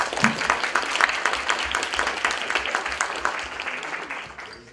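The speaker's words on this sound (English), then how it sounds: "Applause for you." Audience applause at a meeting with the Danish ambassador, a dense, steady patter of many hands clapping together that fades slightly toward the end.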